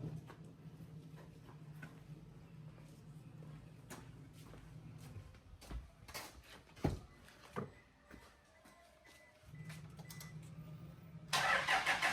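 A Toyota car's engine cranks with a few sharp clicks and whirring bursts, then catches and settles into a steady low idle, heard close and fairly quiet with a hum running underneath.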